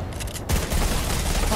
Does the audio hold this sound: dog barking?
no